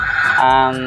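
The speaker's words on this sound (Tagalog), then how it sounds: "sorry po sa manok" A chicken close by gives a short, loud, nasal cluck lasting under a second, standing alone without talk.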